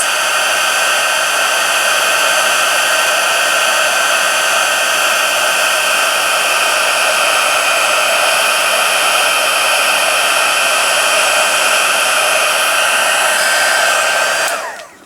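A heat tool blows steadily and loudly for about fifteen seconds, a continuous airy roar melting embossing powder on a stamped Christmas card, cutting off abruptly at the end.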